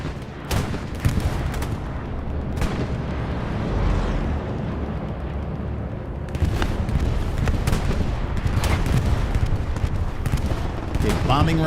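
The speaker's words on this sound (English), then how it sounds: "Right, bombing run does not take out." A bombing run in the video game Hell Let Loose, during a competitive league final, sets off a continuous barrage of deep booming explosions and crackling gunfire, loud and sustained, with voices talking over it.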